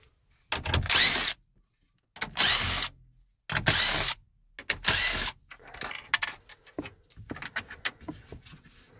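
A power driver whirs in four short bursts, backing 7mm screws out from around the radio bezel of a Ford F-150 dashboard, loud and close, then trailing into softer clicks and rattles.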